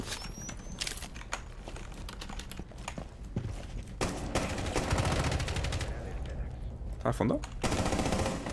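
Bursts of rapid gunfire in Rainbow Six Siege, some shots through walls, coming in clusters with louder volleys toward the end, while a player speaks briefly in Spanish.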